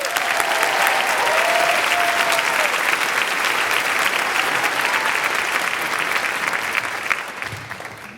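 A large graduation audience at the 2016 Penn Law commencement applauds steadily for several seconds as a student speaker is welcomed, dense sustained clapping that tapers slightly at the end, with faint voices beneath.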